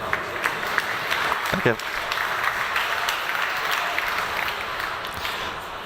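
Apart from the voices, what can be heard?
audience applause at innovation stage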